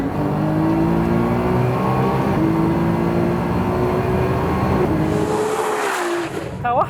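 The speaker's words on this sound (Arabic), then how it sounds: "توحش صوت الديفرنشال اللي ورا، خبط خبطة" A Nissan GT-R tuned past 1000 horsepower revs hard and accelerates loudly and continuously, rising harmonics sweeping upward, with a brief drop and squeal-like burst near the end.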